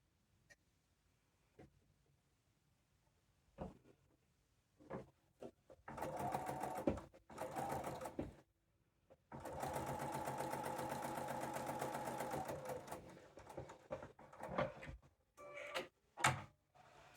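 A home sewing machine stitching quilt block pieces together, running in short bursts and two longer steady whirring runs, with soft clicks and handling thumps between stretches of quiet, close up.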